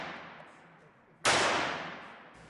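A single loud shot from an Ortgies 32 semi-automatic pistol fired at a target 25 feet away, a sharp close report followed by a long decaying tail, with no talk.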